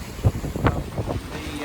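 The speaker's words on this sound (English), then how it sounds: "The gusts are coming in at around about 25 knots, 26 knots" Strong Mistral wind gusting at about 25 knots sweeps across a sailing boat at sea off the coast of Sardinia, buffeting the microphone in rough bursts with the rush of water beneath.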